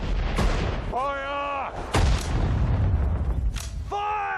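Booming artillery and rapid gunfire in the video game Sudden Strike 4, with loud, dense blasts mixed with shouted battle voices, steady engine rumble and tonal radio-like calls.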